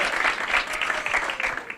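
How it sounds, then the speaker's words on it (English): Conference audience at a marketing bootcamp on online reputation applauds a speaker from Yelp: a full, continuous wash of many hands clapping, moderately loud and sustained throughout. "Emily from Yelp, round of applause"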